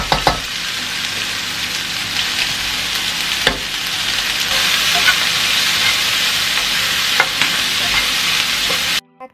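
Okra sizzles and fries in a pan with turmeric and a little salt, a steady loud hiss with occasional stirring clicks, ending abruptly.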